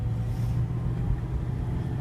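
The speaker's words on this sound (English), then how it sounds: "there does sound like there's a little bit of bearing noise," A 2011 Ford Crown Victoria Police Interceptor with 122k miles drives along. Its front wheel bearing gives a steady low hum under continuous road and engine noise, close and even throughout, with no one talking.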